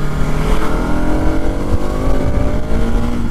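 Continuous loud engine and wind noise from a 2020 Bajaj Pulsar NS200 BS6 motorcycle on the move, a bassy drone with gradually rising pitch, recorded close from the rider's position.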